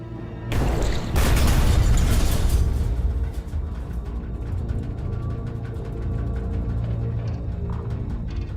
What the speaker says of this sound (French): Une autre grenade sous-marine explose.